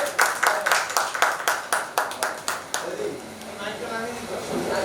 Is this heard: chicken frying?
no